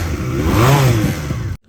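A QJ Motor SRC 250 twin-cylinder motorcycle revs hard, its exhaust note rising and falling in one loud, close burst before cutting off abruptly.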